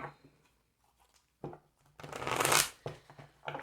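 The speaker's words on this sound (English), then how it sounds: "One more shuffle." Tarot cards riffle-shuffled up close: a few soft taps, then a loud, bright burst of flapping as the deck is shuffled, with quieter handling afterward.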